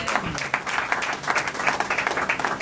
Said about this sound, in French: Est-ce que vous acclamez le Seigneur?